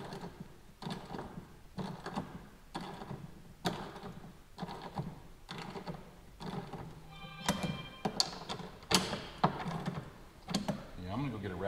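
A small 1/4-inch drive ratchet wrench turning a fastener in a shop, slow repeated clicking bursts in a steady rhythm, close and moderately loud, with a few sharper metallic clanks toward the end.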